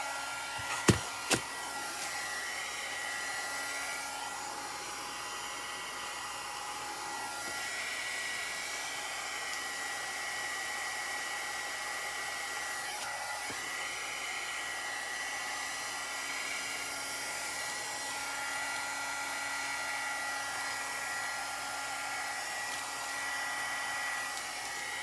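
A hair dryer blows steadily on painted canvas decor, drying the inside of the piece, a continuous close whooshing hum that holds for the whole stretch after two brief clicks at the start.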